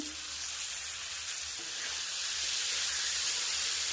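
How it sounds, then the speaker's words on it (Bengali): Chopped tomato frying in a pan with vegetables, salt and turmeric, a steady close sizzle that grows slightly louder toward the end, with no talking. "এবার টমেটোটা সিদ্ধ না হওয়া পর্যন্ত এটাকে আমি ভালোভাবে কষিয়ে নেব।"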